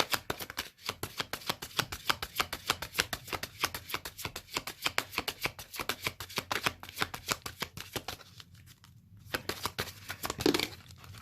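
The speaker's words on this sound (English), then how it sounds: "I'm going to pull 2 more cards" A tarot deck is shuffled rapidly by hand, producing close, crisp riffling bursts in a quick repeated rhythm, then a short pause and the soft slap of cards being drawn.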